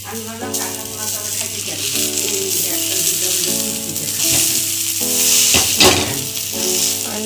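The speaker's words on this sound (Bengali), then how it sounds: "এরপরে আমি ওইটা এই তেলের মধ্যে দিয়ে দিলাম এরপর একটু হালকা ভাজা ভাজা করে নেব" Food frying in oil in a pan, a steady crackling sizzle with occasional stirring scrapes, heard close under background music.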